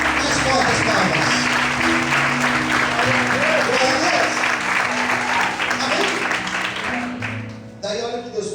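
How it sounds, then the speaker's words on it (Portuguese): A church congregation claps loudly and steadily during an evangelical worship service, the dense applause mixed with voices and music throughout before easing slightly near the end. "Mais fortes palmas."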